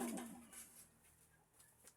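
Pigeons in a loft coo softly and low at a distance, faint and brief, against a quiet background with no talk.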